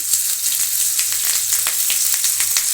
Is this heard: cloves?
yes